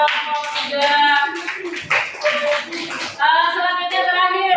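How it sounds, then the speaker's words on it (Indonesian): Fourth-grade pupils in an elementary school classroom clap for group 3 with loud, rhythmic applause, mixed with children's voices chanting or calling out together. "Tepuk tangan lagi dong untuk kelompok 3."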